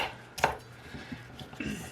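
Vegetables for potato soup are chopped with a knife on a board: one sharp, loud strike followed by several lighter, irregular cuts and a soft clatter, close by and with no voices.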